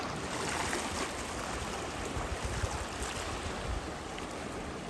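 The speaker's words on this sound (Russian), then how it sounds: "а там вон волны, смотрите, какие" Pacific Ocean surf breaking on a beach in light rain after a typhoon, a steady broadband wash of rolling waves with swells and wind buffeting the microphone, no voices.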